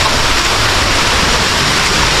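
The Kuang Si waterfalls in Laos pour with a dense, steady roar of rushing water, loud and close, unbroken by any other sound.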